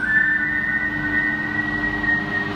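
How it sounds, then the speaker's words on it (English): Whistling breath drawn in during a Kundalini yoga breathing exercise: a steady, continuous high whistle tone held through the whole stretch, with no talking. "Whistle breath in for 4 seconds."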